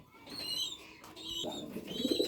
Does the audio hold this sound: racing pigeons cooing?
yes